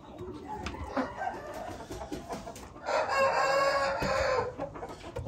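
Chickens at a poultry sale cluck in short bursts, then a rooster lets out a loud, sustained crow near the middle, close by and clear over faint background noise.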